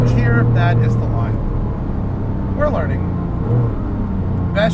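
A Porsche 997 GT2 RS engine pulls hard in third gear, a steady droning roar heard from inside the car. A person talks over it.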